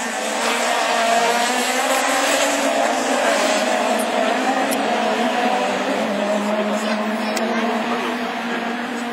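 Super 1600 rallycross car sliding around the track, loud sustained engine drone with shifting pitch and hints of tyre scrub, close and continuous, with faint commentary speech beneath.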